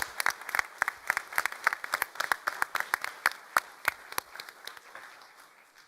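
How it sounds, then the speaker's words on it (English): Sparse applause from a small audience at a school district board meeting, distinct individual claps in an uneven rhythm that thins out and grows fainter toward the end. "Can we give them one more round of applause?"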